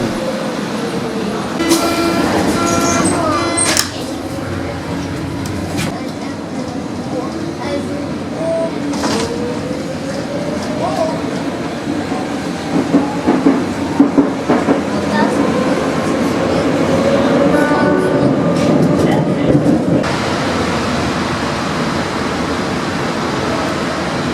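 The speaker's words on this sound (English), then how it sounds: "here is a really awesome old U-Bahn train with a really weird sort of 70s wooden effect interior" An old Berlin U-Bahn subway train rumbles and clatters along the tracks, with a steady roar, rattling carriage noises and occasional squeals and clunks throughout.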